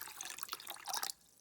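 Water poured into a rice cooker over rice, a steady splashing trickle of liquid filling the pot at close range, running for about a second before cutting off abruptly.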